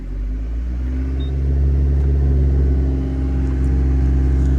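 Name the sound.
Daihatsu Copen engine revving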